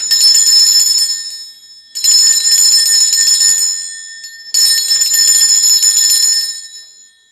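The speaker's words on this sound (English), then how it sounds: "I'm going to be ringing this bell just to cleanse the space around us." A small hand bell rung to cleanse a space: three bright, shimmering bursts of rapid ringing, each lasting about two seconds and fading before the next, loud and close with no voices.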